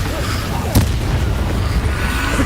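Hogwarts Legacy battle where an Incendio fire spell is cast: one sharp blast rises out of a continuous loud rumbling roar of combat, which carries on steadily to the end.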